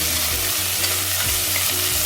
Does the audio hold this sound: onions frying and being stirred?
yes